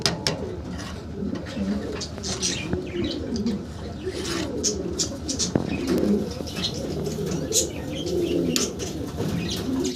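Maltese pigeons, big birds kept in a cage, cooing in soft repeated low throaty rolls with scattered chirps and occasional wing flutters, close by, with some human voice in the background.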